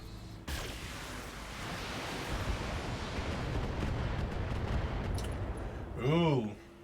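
Weapons fire in the BattleTech mech game: a sudden blast opens a long roaring barrage of explosions and impacts, ending in a loud swelling burst with a falling whine, while a voice talks.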